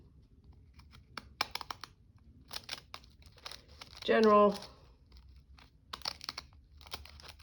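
Decal scissors with a patterned blade snip through paper at a craft table, giving a brief close crunchy cutting burst in the middle, surrounded by light tapping and handling noises while someone talks before and after.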